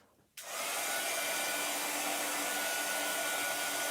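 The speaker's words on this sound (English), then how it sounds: "I'm going to hit this with the dryer" A hair dryer switches on after a brief quiet moment and blows steadily at close range, drying a painted wooden bunny door hanger with a loud, continuous whooshing roar.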